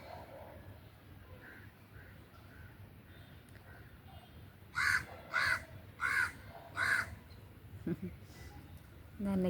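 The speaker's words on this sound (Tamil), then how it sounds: "காக்காவை பாருங்க," Crows caw in a run of four loud, evenly spaced calls close by, following fainter distant caws, with another bird chirp near the end over steady background hiss, heard in a garden setting.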